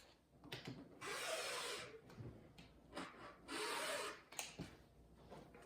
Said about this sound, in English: So now we're going to cut to the side and to the top